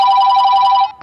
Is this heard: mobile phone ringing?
yes